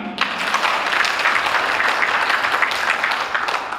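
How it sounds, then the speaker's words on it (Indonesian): Guests at an installation ceremony in West Java applaud, a steady, close wash of clapping that holds evenly throughout. "Bisa tepuk tangan?"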